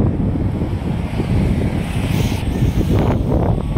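Strong wind buffets the microphone in a constant loud roar near a large pipe by a bridge at an expressway connector construction site, with a faint background hiss and no talking.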